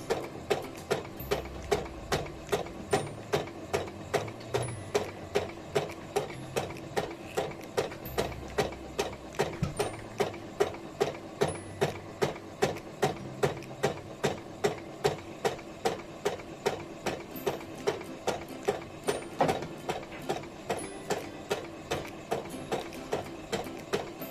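A sewing machine stitches along a fabric edge with a rapid, even mechanical clatter. It runs steadily and close up, with no talking over it.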